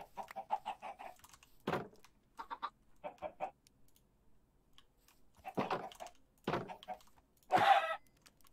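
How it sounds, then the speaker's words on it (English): Chickens in the video game Minecraft, several short bursts of clucking in quick runs with gaps between, fairly close and clear, alone with no talk. "All those stupid chickens are just laying a bunch of stupid eggs."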